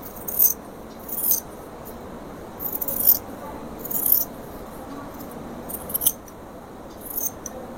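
Scissors snip through nighty fabric on a tabletop, a series of short, crisp cutting strokes recurring about once a second with small pauses, close and moderately loud, with no talking.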